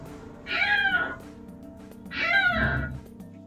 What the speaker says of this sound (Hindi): सेकंड फ्लोर में बिल्ली का बच्चा गिरा हुआ है।